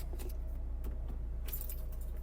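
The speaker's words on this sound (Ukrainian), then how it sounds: "Два ключі" Two keys of a used Opel Zafira with about 210,000 km jangle together in a few short, bright metallic bursts over a steady low hum, close by, with no talk.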